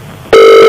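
A telephone ring on a prank call, a single loud electronic ring tone that starts abruptly and holds steady, close and clear with no talk.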